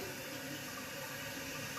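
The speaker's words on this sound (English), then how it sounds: "Once you turn the water back on, it'll start filling up." Toilet tank refilling with water after the supply is turned back on, a faint, steady hiss of running water with no breaks.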